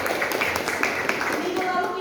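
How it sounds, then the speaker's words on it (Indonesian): Schoolchildren in a classroom clap for a classmate, a quick scattered patter of many small hands under children's voices, fairly close and lasting about two seconds. "Oke, tepuk tangan buat Nabila."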